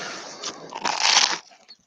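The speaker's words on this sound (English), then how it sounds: "I'm eating my sandwich. Sounds crunchy." Crisp, close crunching bites into a toasted ham and cheese sandwich, a few loud crackling chews in quick succession with no talking.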